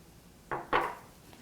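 Raw potato pieces dropped into a hot pan coated with rendered chorizo fat: two quick soft thuds and a brief sizzle, close and fairly quiet, with no talking.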